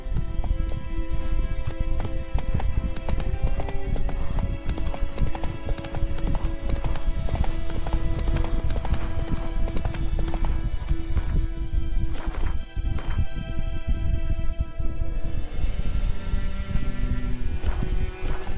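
Roach, a horse in The Witcher 3, galloping with steady rapid clip-clop hoofbeats, loud and close, continuing throughout with occasional whinny-like sounds and no talk.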